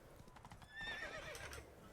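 In The Witcher 3: Blood and Wine, a spooked horse gives a loud, wavering neigh amid a steady clatter of hooves, with the whinny rising and falling over the trotting.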